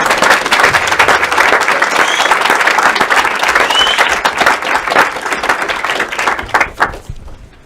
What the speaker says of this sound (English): So everyone, a big applaud for the jury.